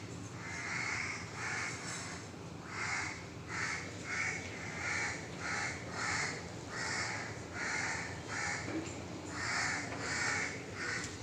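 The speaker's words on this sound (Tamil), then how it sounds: "காக்கா வந்து இவ்வளோ காக்கா கூட்டமாக கத்துது" A flock of crows caws together in the morning, harsh calls coming in repeated rhythmic bursts roughly every second, fairly close and unbroken by any talk.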